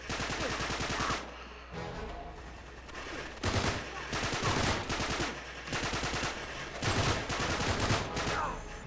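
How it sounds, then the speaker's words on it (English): Loud, dense gunfire from the action game Uncharted 3: Drake's Deception, with continuous automatic bursts and rattling fusillades filling the mix and brief lulls between volleys. "He's shooting me."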